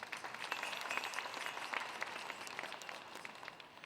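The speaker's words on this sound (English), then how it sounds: "Let's give him a round of applause." Audience applause at a Lumbee Days cultural presentation, with dense clapping from a crowd holding steady throughout and heard from a distance.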